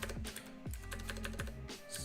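Rapid keystrokes clatter on a computer keyboard while a username is typed into a bug report for an app connecting a Python backend with a Flutter frontend, steady close clicking throughout with a faint background hum.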